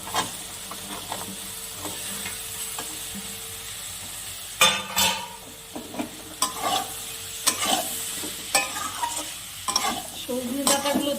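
Drumstick pieces (sajne data) are stir-fried in oily spice masala for a chorchori, giving a close sizzling hiss broken by irregular scraping stirs of a spoon against the pan, growing busier after the first few seconds.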